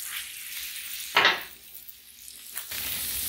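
A smash burger patty sears on a Blackstone griddle while pressed down, a faint hiss punctuated by one loud sizzling burst and a later metallic scrape.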